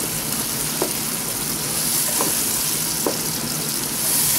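Achari karahi chops fry loudly with a dense, constant sizzle as chopped tomatoes are mixed in, with a few soft scrapes from the stirring utensil; nobody speaks.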